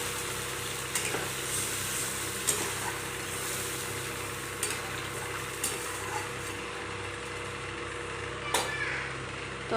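Chilli paneer sauce sizzles steadily in a pan after water is added, a continuous frying hiss with occasional light utensil taps against the pan.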